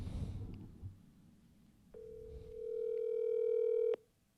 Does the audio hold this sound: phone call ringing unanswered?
yes